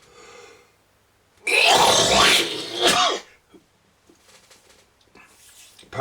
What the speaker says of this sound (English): a bit of a cough there